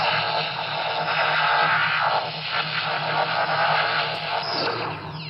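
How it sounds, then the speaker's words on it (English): Firing blast from a homemade Ghostbusters proton pack prop, a loud, continuous buzzing electronic roar with static-like hiss that holds steady for the whole stretch, with a brief whine near the end. "You can see we get the firing sound and the bar depletes on the power bar just here."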